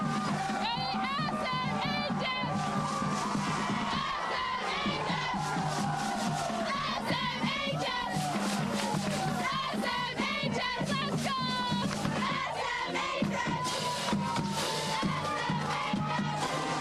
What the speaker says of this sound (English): you have a cheer that you want to share with me